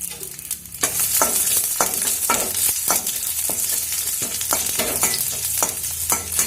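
Onion and chili sauté in coconut oil with mustard seeds, a loud continuous sizzle broken by repeated sharp scraping stirs of a spoon in the pan, with no talking.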